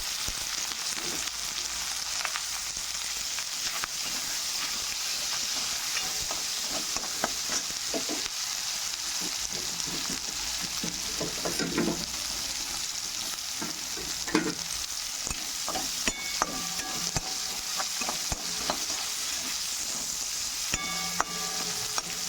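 Garlic paste and onion sizzle in oil in a frying pan while being stirred, a constant close hiss broken by repeated scraping and clinking of the spoon against the pan.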